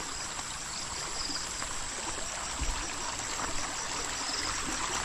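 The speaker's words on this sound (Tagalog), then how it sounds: "Laka ng tubig po." A strong stream in the countryside flows with a continuous, dense rushing and splashing of water, heard close and steady throughout.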